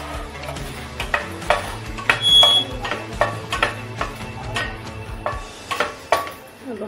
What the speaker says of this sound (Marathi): त्यात आपण हा हिंगाचा खडा घेतला ना तो आपण त्याच्यामध्ये भाजून घेणार आहोत